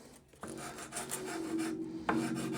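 A medium file rasping across a guitar nut on a custom headless guitar, steady close-up scraping strokes with a brief pause between them, quiet and with no talking.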